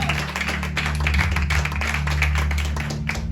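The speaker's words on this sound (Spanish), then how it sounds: "Démosle ese fuerte aplauso al Señor." A church congregation claps in praise at a sermon, a lively, fairly close stream of hand claps over a steady musical drone from an organ or keyboard.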